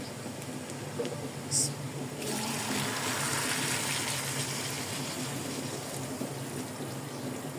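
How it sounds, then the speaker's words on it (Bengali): Hot water gushes into a cooking pot of soaked ingredients for biryani, a steady rushing pour starting after a brief clink and continuing strongly for several seconds before easing into a lighter flow. "এখন আমি দিয়ে দেব গরম পানি"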